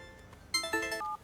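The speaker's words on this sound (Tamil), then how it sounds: "அஸ்மிதா தான் ஃபோன் பண்றா." A phone ringing with an incoming call, a short close electronic tone sequence of a few bright beeps lasting under a second, alone without voices.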